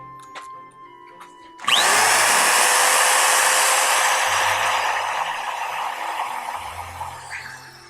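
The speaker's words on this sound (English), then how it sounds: "now I will actually drill it without having to hold that little plastic thing" An electric drill bores into a cedar shutter, cutting in abruptly after some quiet shuffling, then a loud, steady high whine with grinding texture that gradually eases off toward the end.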